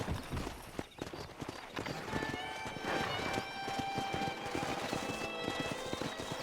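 Rapid clip-clop of galloping horse hooves in Red Dead Redemption, a busy rhythmic pounding with a brief whinny-like tone, all fairly quiet.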